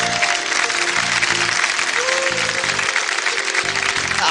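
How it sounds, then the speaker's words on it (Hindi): An audience at a singing competition gives loud, sustained applause for an eliminated singer, with dense clapping over a low, rhythmic thumping underneath. "जोरदार तालियां"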